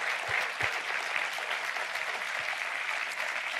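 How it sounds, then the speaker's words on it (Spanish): A church congregation claps together during a worship service, a dense, steady wash of applause that holds throughout with a few low thumps, no voices standing out. "Vamos a darle una ofrenda de palmas a Dios"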